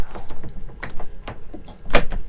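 A 2022 A-Liner Classic camper trailer door is handled and shut, with several light knocks and rattles followed by a firmer closing thud near the end.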